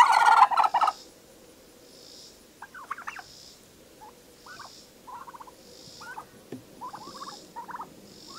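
Domestic turkeys, several toms, gobble in short bursts at a homestead, each call ringing out clearly over a quiet background, repeated about seven times at a steady, unhurried pace.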